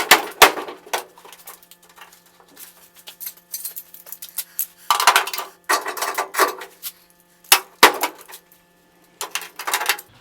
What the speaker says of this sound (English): give it a flatten up with the hammer